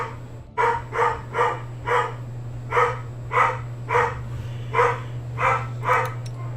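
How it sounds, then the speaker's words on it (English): A house dog barking off in another room, about a dozen evenly spaced, muffled barks in a steady rhythm over a constant electrical hum. "I'm gonna go shut my dog up."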